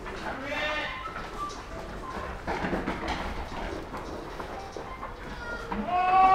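Castrated male goats of the Sirohi and Gujri breeds bleat repeatedly inside a farm shed, with several overlapping calls near and far and a louder cry at the end, while someone talks quietly underneath.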